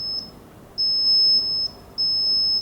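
A high-pitched electronic beeping from a Bosch line laser level's tilt warning, past about 4 degrees of tilt, repeats in quick, regular pulses in short runs, clear and steady over a low background hum, with no talking.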